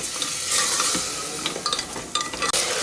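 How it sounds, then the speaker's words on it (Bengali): Soaked peas and potatoes stir-fried for an aloo curry, a close crackling sizzle with repeated scrapes and clinks of a spatula against the pot, busier near the end, no talk. "মটরটাকেও আলুর সাথে এক দেড় মিনিট একটু নেড়ে নিলাম"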